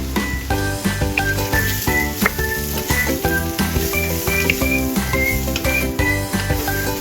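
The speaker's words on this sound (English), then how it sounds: "add the carrot strips and celery, then stir-fry everything together" Dried tofu stir-fries with carrot strips and celery in a pan, giving a steady sizzle with rhythmic scraping stirs, over loud background music.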